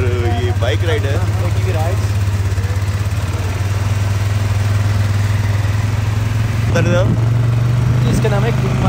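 A motorcycle engine drones steadily and loudly through a bike ride at Gulmarg, a constant low hum with people talking over it throughout.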